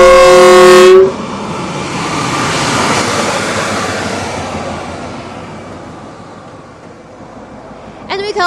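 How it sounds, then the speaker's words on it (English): A Hexie bullet train sounds its horn, then rushes past near the foot of the Great Wall's Juyongguan Pass with a loud, broad roar that slowly fades over several seconds. "This is a Hexie bullet train."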